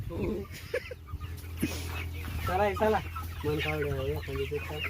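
Free-range village hens cluck and squawk close by in a farmyard, in a busy run of repeated calls, while a person talks over them.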